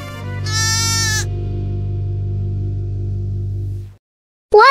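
A sheep gives a single clear bleat, loud and close, heard alone over a steady low hum that continues after it.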